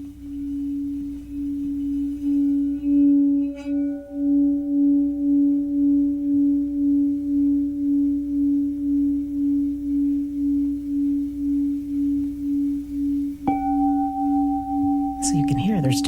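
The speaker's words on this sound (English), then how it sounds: "And I'm going to play the rim of the bowl." A singing bowl played around its rim rings with a sustained pure tone that swells and pulses slowly, close and loud; a second, higher note joins near the end.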